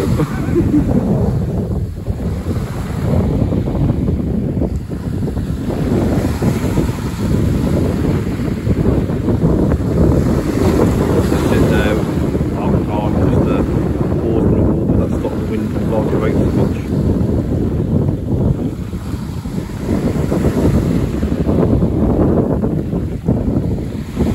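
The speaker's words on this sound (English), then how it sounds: "Wind's picked up a bit, hasn't it?" Strong wind roaring across the microphone at sea on a small beach boat, constant gusty rumble with water sloshing beneath, loud and unbroken throughout.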